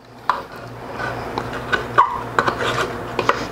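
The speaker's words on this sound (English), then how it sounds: "So just going to clamp that on there." Small clamps tightened onto wooden boards for a small rammed earth form: scattered close creaks, rubs and light wooden knocks, irregular and moderately loud, without talk.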